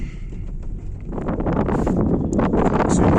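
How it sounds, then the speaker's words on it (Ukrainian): Steady wind gusts buffet and roar outdoors, growing stronger toward the end, with a faint airy whistle running through the rushing noise. "Вітер опять свище."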